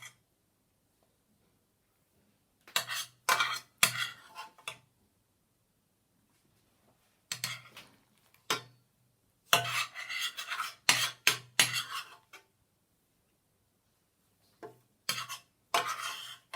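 Utensils scraping and clinking against plates while ravioli in burnt butter and sage is served, short bursts of rasping, clattering contact separated by quiet pauses.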